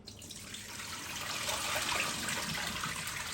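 Rice being rinsed under running water in a home kitchen, a steady close splashing and trickling that swells slightly and continues without pause.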